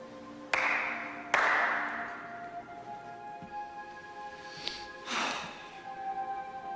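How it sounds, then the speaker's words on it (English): Two sharp hand claps ring out about a second apart, each leaving a short reverberant tail, followed by quieter bumps and faint movement in an otherwise hushed room. "Clap twice."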